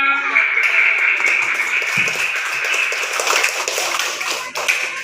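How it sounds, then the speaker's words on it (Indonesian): An audience in an Islamic religious education classroom claps, brisk layered clapping under a steady tone and some voices, fairly close and loud for about five seconds. "Terima kasih, tepuk tangan."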